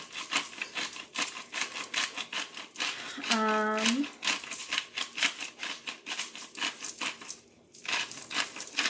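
Black pepper ground from a grinder in a home kitchen, a close rhythmic crunchy rasp repeating through the clip, with a short rising squeak midway and light kitchen handling noise around it.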